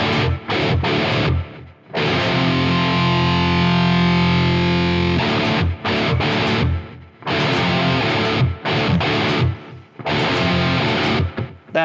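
Grungy, heavily distorted electric guitar run through a Quad Cortex with delay, played in loud sustained chords and choppy bursts separated by short gaps, with no talking.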